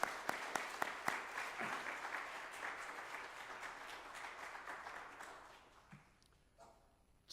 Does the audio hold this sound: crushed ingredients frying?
no